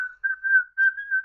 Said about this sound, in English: he's whistling the farmer in the dell